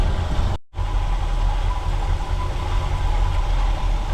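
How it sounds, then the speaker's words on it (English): A 1979 GMC Vandura engine with a new Edelbrock carburetor idles low and steady, a close, continuous rumble broken only by a momentary dropout near the start. "Set the base idle now."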